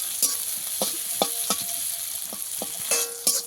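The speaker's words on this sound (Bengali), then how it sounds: "আগে থেকে বেছে ধুয়ে রাখা ঘিমে শাকটা আমি ভালো করে একদম ভেজে নেব।" Gima greens, washed and picked over beforehand, being stir-fried in a pan, with a soft sizzle under a series of sharp scraping and clinking strokes of the spatula against the pan at irregular intervals, close up and without talk.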